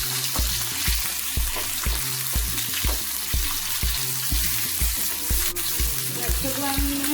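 Rohu fish fries in a pan with a steady, close sizzle, overlaid by a regular series of soft rhythmic knocks, as if of stirring or turning, with no talk.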